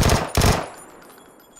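Rapid automatic gunfire from the battle royale game PUBG, two loud close bursts of shots in quick succession followed by a fading echoing tail.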